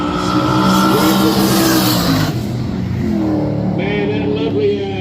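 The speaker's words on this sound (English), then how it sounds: "of course, wheel spin from the rear end of the car." An early model Chrysler in beige spins its rear wheels at a roll racing launch in Adelaide at night, a loud engine roar and revving with squealing tyres that fades as the car pulls away.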